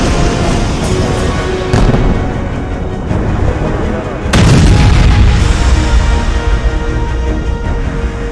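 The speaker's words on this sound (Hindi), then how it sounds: "इजरायली सेना का धमाका" An Israeli military strike in Beirut sets off a deep, loud boom that rolls over a steady roar of rumbling noise, with a second heavy blast surge partway through.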